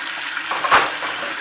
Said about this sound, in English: I just go ahead and rinse everything with water